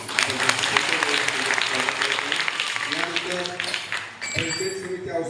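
Audience at a Varkari spiritual discourse clapping, a dense burst of applause that thins toward the end, heard alongside a voice speaking and chant-like tones.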